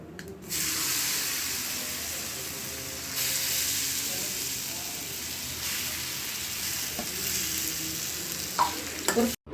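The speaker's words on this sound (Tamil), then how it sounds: "வதக்கிடலாம் ஒரு டூ மினிட்ஸ் போதும் ரொம்ப நேரம் வதக்க வேண்டாம்" Grated raw mango sautéing in a pan for pickle, a continuous close sizzle with the soft scrape of stirring and a few sharper clatters near the end.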